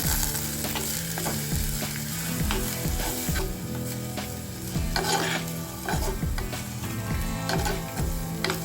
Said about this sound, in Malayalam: ഇതിലേക്ക് കുറച്ച് കറിവേപ്പില രണ്ട് പച്ചമുളകും കട്ട് ചെയ്ത് വെച്ചിരിക്കുന്ന ക്യാബേജും ചേർത്ത് കൊടുക്കാം